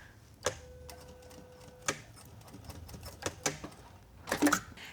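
Sewing machine running a back stitch on a dress, a few short bursts of needle clatter separated by pauses, close and moderately loud, with light handling clicks.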